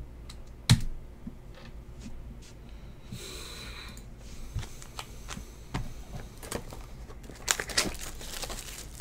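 Computer keyboard typing, a run of scattered key clicks and taps at close range with a few sharper knocks, over a low steady background hum; no talking.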